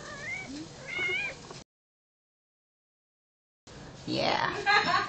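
A cat meows several times close by with clear, wavering cries, followed after a silent gap by a longer, harsher drawn-out yowl; a person speaks to the cat around it.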